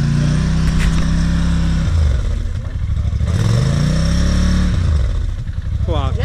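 A quad ATV with small tires bogs down in a mud hole, its engine revving loud and close in repeated rising and falling surges with some clatter, while voices call out over it.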